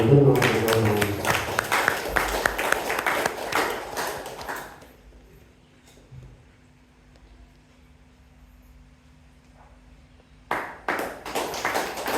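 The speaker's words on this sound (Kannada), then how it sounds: "ಚಪ್ಪಾಳೆಯನ್ನು" Applause at a church novena Mass for St. Lawrence in a Kogre parish hall: clapping and scattered taps fill the opening seconds, fade into near-silence with a low hum, then a short burst of clapping returns near the end.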